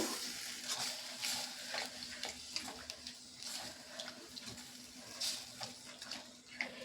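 Water poured into mung dal paste and stirred, a soft continuous sloshing with intermittent scraping and splashing strokes, quiet and close.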